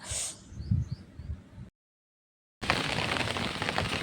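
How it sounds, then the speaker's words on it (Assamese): Steady rain hisses loudly, cut by a short gap of near silence; before the gap, fainter patter sits under low rumbling. "বৰষুণ জাক দিছে"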